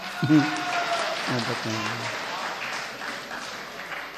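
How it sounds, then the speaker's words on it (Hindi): Clapping from a mushaira poetry-gathering audience in Pune, a steady broadband patter of many hands lasting throughout, with brief voices audible near the start. "ताली बजा सकते हैं एक बार?"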